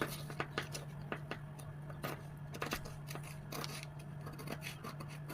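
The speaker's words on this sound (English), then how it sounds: "So I'll go ahead and I'll cut this out." Scissors snip through a paper sewing pattern in quiet, close, irregular cuts and rustles over a steady low electrical hum.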